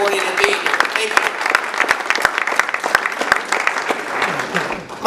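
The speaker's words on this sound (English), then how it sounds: "So give yourselves a big round of applause for getting up on a Saturday morning and being here." An audience at a Saturday-morning candidate forum in Marion claps loudly and steadily, a dense crowd applause close by, with a voice speaking over it.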